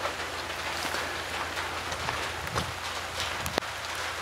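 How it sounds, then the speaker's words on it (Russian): Steady rain pattering on a surface, a continuous soft hiss with occasional louder drops, no voices. "Весь день идет дождь"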